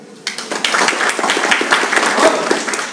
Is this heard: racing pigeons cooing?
no